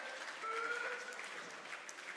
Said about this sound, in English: Please applaud both teams.